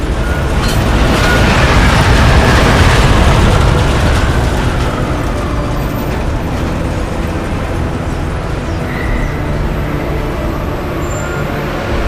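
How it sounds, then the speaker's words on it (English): A train in Deus Ex: Mankind Divided rumbles loudly and steadily throughout, a dense broadband roar that swells early and then settles into a continuous rolling drone. "Just getting off the train now."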